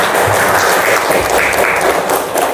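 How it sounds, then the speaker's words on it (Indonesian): A classroom of students claps together in a short, loud, close burst of dense applause that fills the moment without any speech. "Tepuk tangan dulu untuk kita semua."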